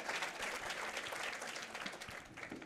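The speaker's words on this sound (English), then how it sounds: "How about a round of applause as we get underway in the U15 Boys Division" Audience applause fills a bowling center at the Kegel Junior Gold Championship as the U15 boys finals begin, a steady, dense clapping that runs throughout with no voices over it.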